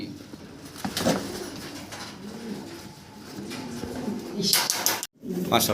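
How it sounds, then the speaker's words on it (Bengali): Black checker Mundian pigeons cooing in a loft, soft repeated coos at close range, heard beneath steady talking, with a brief bright rattle near the end and a short dropout. "এই চমৎকার ব্ল্যাক চেকার মুন্ডিয়ানের পেয়ারটা রানিং জোড়াটা"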